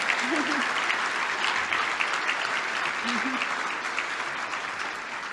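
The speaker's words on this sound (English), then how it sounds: "So can you please give them a round of applause?" Guests at a Believe Big cancer fundraising dinner in 2017 give sustained applause, a broad even roar of clapping heard from some distance in a large room, with a couple of brief whoops mixed in.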